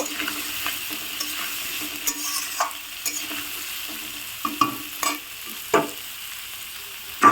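Boiled potatoes fry in a pan with a soft, steady sizzle, and a utensil stirs them in scattered clinks and scrapes that grow a little more frequent toward the end.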